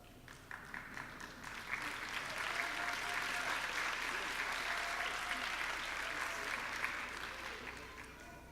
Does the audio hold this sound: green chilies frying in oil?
no